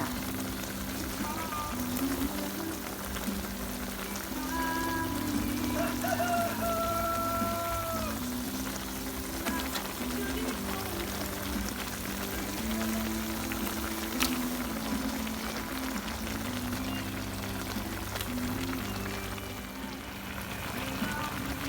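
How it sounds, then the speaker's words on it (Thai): Water boils in a pot of spicy curry with a steady bubbling, crackling simmer throughout, with a person talking over it at times. "น้ำเดือดนะคะ เราก็ใส่ปลาเนื้ออ่อนลงไปเลยค่ะ"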